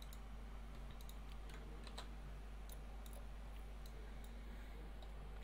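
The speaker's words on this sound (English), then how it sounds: "Let me type it in chat for you." Faint, quick keystrokes tap out a burst of typing on a computer keyboard, irregular clicks scattered over a low steady hum.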